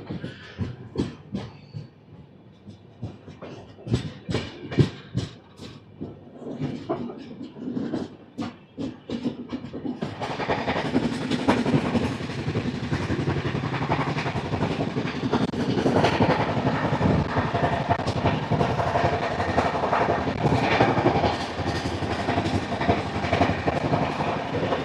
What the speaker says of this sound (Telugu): వెంటనే డిపార్చర్ అయితే అయిపోయింది చర్లపల్లి స్టేషన్ నుంచి.